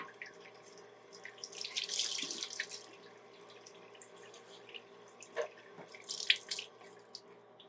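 Tap water runs from a kitchen faucet into the sink while a tomato sauce can lid is rinsed, a steady splashing stream with louder gushes and a few clinks near the end, close by and without talk.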